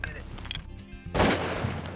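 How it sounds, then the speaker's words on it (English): A shotgun blast from a duck hunt near Stuttgart fires once, loud and close, with a sharp broadband burst and a ringing tail after a brief lull in background noise. "Nice shot, Steve."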